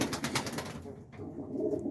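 Roller pigeons coo softly inside a coop, a few low throaty calls in a close, quiet room.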